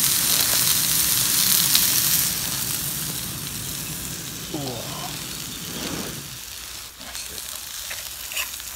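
Three patties frying in a pan on a trail stove, a steady close sizzle and hiss that is loud at first, then softer, with brief scraping sounds partway through.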